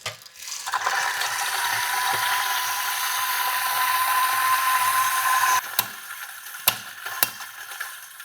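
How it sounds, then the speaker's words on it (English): A Timemore Sculptor 78S electric coffee grinder grinds beans at setting 6, a steady loud whirring motor hum for about five seconds that stops abruptly and is followed by a few sharp taps and clicks. "And I will grind this coffee with the Timor Sculptor 78S at 6."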